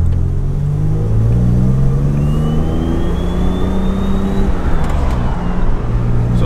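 A turbocharged car engine builds boost during a brake-boost launch near 4,000 RPM, a loud, close droning rumble with climbing harmonics and a rising turbo whistle before it pulls away, with no talking.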